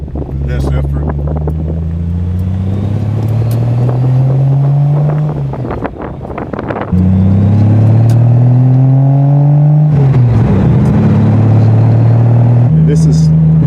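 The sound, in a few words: Triumph TR6 classic car driving and accelerating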